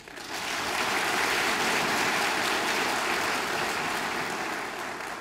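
Applause from government staff at a provincial office gathering: dense, steady clapping that rises quickly and holds for about five seconds, fairly loud and fading slightly at the end, with no talking over it.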